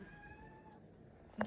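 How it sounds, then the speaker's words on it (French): A pet cat gives one short meow right at the end, close and fairly clear, after a quiet stretch of low room noise. "ça c'est mon chat"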